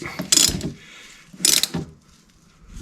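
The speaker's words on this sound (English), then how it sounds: "Get my ratchet in there." A hand ratchet tightens a part on a Kubota LX tractor during a 50-hour service, with two quick bursts of rapid metallic clicking close to the microphone and quiet gaps between them.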